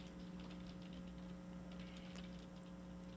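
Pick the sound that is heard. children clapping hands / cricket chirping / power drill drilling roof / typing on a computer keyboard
typing on a computer keyboard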